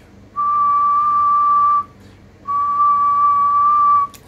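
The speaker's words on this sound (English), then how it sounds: "No, I can't whistle to save my life." Two sustained steady whistles, each about a second and a half long with a short gap between, sent through a Kenwood TS-2000 radio microphone over a low background hum, loud and clear.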